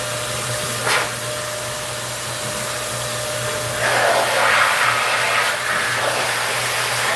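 Kirby vacuum cleaner blowing debris out, a steady motor hum with a sharp puff early on and a louder, airier rush of blowing near the end.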